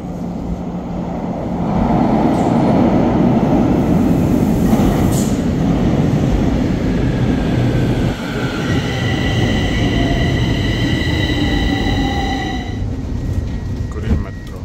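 A metro train rumbles loudly through, with rising whine tones as it pulls away and a steady rolling roar throughout, with voices faintly mixed in.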